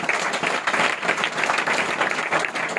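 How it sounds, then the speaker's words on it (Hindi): At a Christmas gathering celebrating the birth of Jesus, an audience claps vigorously. The dense, continuous clapping stays close and even for a few seconds. "हम जोरदार ताली बजाएंगे"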